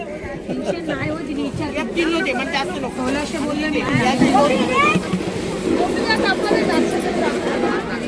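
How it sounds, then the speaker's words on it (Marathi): A dense crowd of women chattering and bargaining at a fish stall in Alibag harbour, many overlapping voices forming a loud, continuous babble close by. "बायकांची प्रचंड गर्दी चालू झाली आहे घ्यायला"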